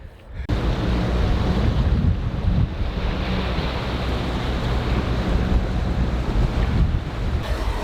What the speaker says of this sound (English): we're motor sailing along to the other side of Mag Bay